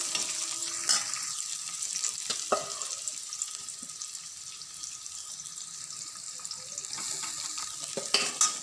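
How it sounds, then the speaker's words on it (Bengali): Vegetables and rice drop into a hot frying pan and sizzle steadily, with a few sharp stirring scrapes and clinks near the start and end; no voices. "এবার প্রথমে আমি অল্প করে একটুখানি সবজি এটার মধ্যে দেব। এবার ভাতটা দিয়ে দেবো।"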